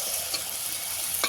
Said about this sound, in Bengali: এতে করে একটু সময় নিয়ে কষিয়ে নিতে হবে মাংসটাকে।